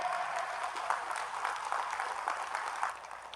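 Audience at a mushaira clapping steadily, a dense, even wash of applause with no voices over it, moderately loud throughout.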